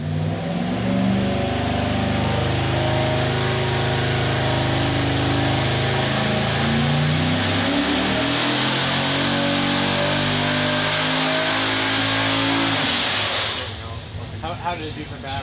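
An LS V8 fitted with four diesel turbos runs on an engine dyno. It holds a loud, sustained revving roar while the pitch climbs, and a high turbo whine builds in. The engine cuts off suddenly near the end.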